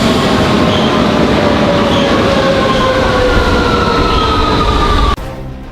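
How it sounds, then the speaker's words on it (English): Interior ride on a graffitied Rome metro train: a steady, loud roar of wheels and motor with a rising electric whine across the whole stretch, cutting abruptly to a quieter rumble near the end. "we took the graffitied metro home."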